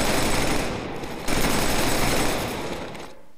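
Sustained machine-gun covering fire in the shooter Killzone 3 roars in loud, continuous bursts, briefly easing before surging again and then tapering off near the end, with no talk.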